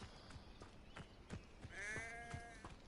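Sheep bleating in the video game Hogwarts Legacy, a single wavering bleat rising clearly over soft ambient game sounds and faint footstep-like taps.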